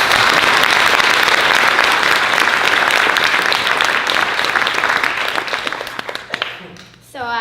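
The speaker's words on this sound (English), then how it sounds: "So let's give them a big round of applause." Loud, sustained applause from an event audience thanking sponsors and volunteers at a Superpod orca gathering, dense clapping filling the room before tapering and breaking off near the end.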